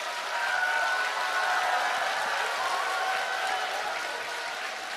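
A seminar audience on side businesses breaks into sustained applause, a dense, even roar of many hands clapping at moderate distance, steady throughout with a few faint voices or cheers riding above it.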